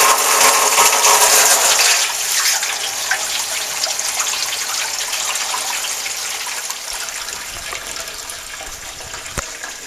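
Water gushing into a Brandt Stato 46 dishwasher during its fill cycle, a loud, continuous rushing hiss that eases slightly after the first couple of seconds, then runs on steadily.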